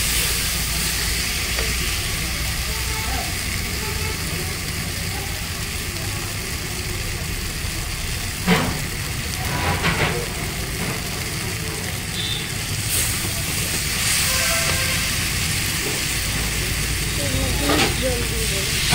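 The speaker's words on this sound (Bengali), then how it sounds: "মশলা দিয়ে তেল ছেড়ে দিয়েছে।" Spice masala sizzling in oil for a Bengali fish curry, a steady broadband frying hiss running throughout with a few faint stirring knocks and clinks near the end.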